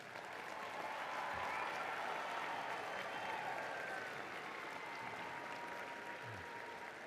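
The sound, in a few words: audience applause celebrating graduates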